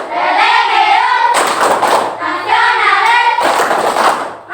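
A pupil claps the rhythmic Indonesian 'tepuk PPK' class chant in a classroom, bursts of hand claps alternating with chanted or spoken voice, close and loud.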